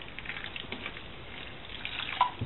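Water is poured over trays of sprouting cow fodder, a soft, steady trickle and splash at low volume with a single brighter drip near the end.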